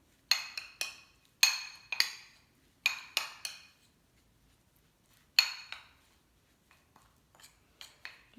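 A spoon scrapes and clinks against a bowl while mixing communion bread dough, in bursts of quick, bright knocks separated by short pauses, fairly close and with no talk.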